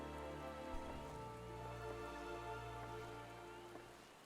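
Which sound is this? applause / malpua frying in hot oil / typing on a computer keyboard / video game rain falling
video game rain falling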